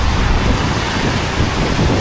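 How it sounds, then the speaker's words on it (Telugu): Heavy rain during a scooter ride in stormy weather on the road from Kuala Lumpur to Cameron Highlands, heard as a dense, loud, constant roar mixed with buffeting wind noise. "బాగా పడుతుంది వర్షం."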